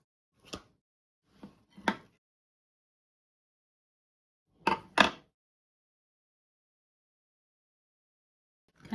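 Knife slicing through a baked pear and puff pastry dessert, giving a few short crisp crunches, then a pair of louder cuts a few seconds later, close and alone in a quiet room.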